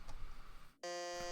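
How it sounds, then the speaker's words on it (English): A game show buzzer sounds a single steady electronic beep after a moment of near-silence, sharp and clean, during a quiz game. "Checking buzzer."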